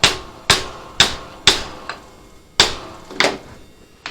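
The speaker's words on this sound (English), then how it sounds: "bend it over, use a rawhide mallet" A rawhide mallet strikes a brass rod being bent over, giving seven crisp, close blows in a fairly steady rhythm about half a second apart with a short pause midway; no speech.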